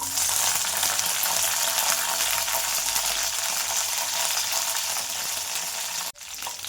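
About eight green chillies fry in a little hot oil, a loud, even sizzling hiss that holds steady for several seconds before a brief dip near the end, with no one talking.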